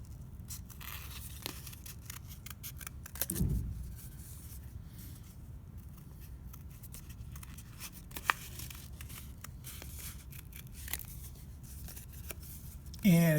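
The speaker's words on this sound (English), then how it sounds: "you can cut another shape off of that if you want" Scissors cut paper into shapes for a rose window craft, giving quiet, scattered snips and rustles, with one louder crinkle near the start, under soft talk.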